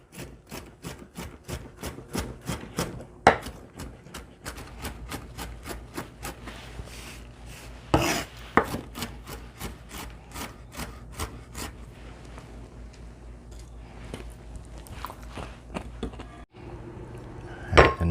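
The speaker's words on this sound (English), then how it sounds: "So I'm going to continue to chop these up so they make sense for stuffing." Quail stuffing ingredients chopped on a board with a knife, rapid rhythmic knocks close up, steady at first then slowing and thinning toward the end.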